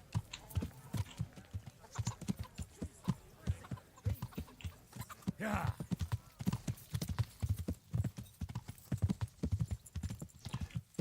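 A ridden horse trots in the video game Kingdom Come: Deliverance, its hooves clip-clopping in a fast, steady rhythm, fairly quiet and close, with a brief snort or whinny partway through.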